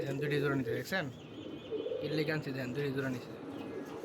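Male Sowa-Chandan pigeon in a rooftop garden aviary cooing to a newly added female, repeated low rhythmic coos in bursts, close and fairly loud, with someone talking over them.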